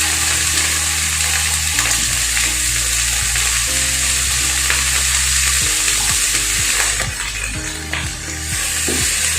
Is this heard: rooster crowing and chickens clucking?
no